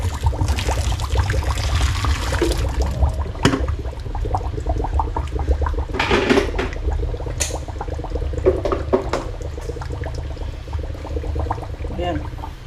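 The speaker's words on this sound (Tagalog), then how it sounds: "Tapos, lalagyan natin naman ng mainit na tubig." Hot water is poured into a clogged kitchen sink drain treated with baking soda and vinegar, a continuous gurgling, splashing pour close by with occasional bubbling bursts and no voices over it.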